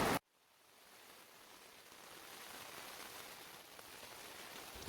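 Steady, soft rain falls in Veneto around Cortina d'Ampezzo, an even faint patter that settles in after a short opening click and continues alone.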